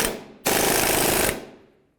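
A loud pneumatic rattling burst lasting under a second as a press tool with adapters drives a ball joint into a 2002-2006 Honda CR-V front lower control arm, then hiss fading away.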